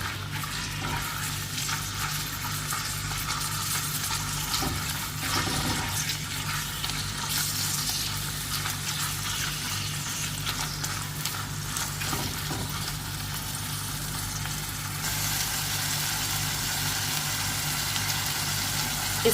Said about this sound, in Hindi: कीमा को हमें भुनना है तेल के साथ, ऑयल के साथ